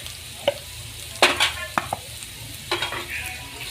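Chili powder hits hot oil with vegetables for homemade pav bhaji, giving a soft sizzle broken by several sharp spatula scrapes and stirs against the pan, with no talking.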